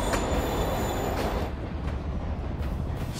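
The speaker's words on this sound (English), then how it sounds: "Train's moving." A moving train in the video game Marvel's Spider-Man Remastered rumbles loudly and steadily, with a high wheel squeal fading out partway through, alone without any talk.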